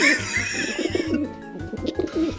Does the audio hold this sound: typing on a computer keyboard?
no